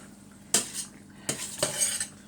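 Metal utensils clatter and scrape against a bowl while salad ingredients for a Moroccan king salad are mixed together, in three or four short, close stirring bursts.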